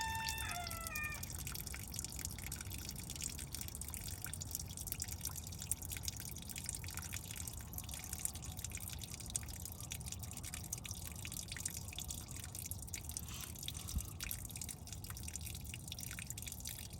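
Water dripping out while fluids drain from a 1951 Case VAC tractor, a quiet, steady patter of drips under faint background hum, with a brief chirp early on.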